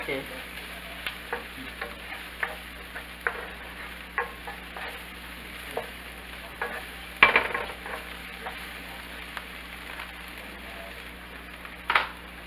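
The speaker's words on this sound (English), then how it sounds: "Stir these around for a minute or 2" Red bell pepper and leftover black-eyed peas are stirred in a frying pan, with a soft steady sizzle under regular scraping taps of a utensil against the pan and a couple of sharper knocks.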